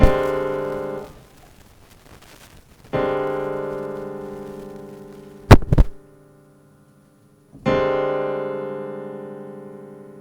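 Three sustained chords ring out one after another on a clean keyboard-like instrument, each decaying slowly, with a short sharp knock between the last two.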